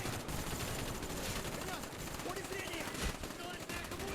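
Rapid Mac-10 submachine gun fire in a Call of Duty video game, loud and continuous, with dense bursts of shots filling the whole stretch amid game noise.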